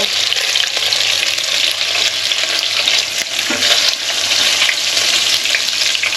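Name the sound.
chicken and pork browning in a pan for adobo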